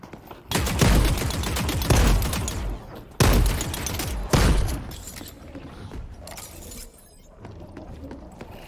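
Gunfire in The Cycle: Frontier video game, with loud rapid bursts of shots and mechanical clatter in several sharp volleys, under players talking.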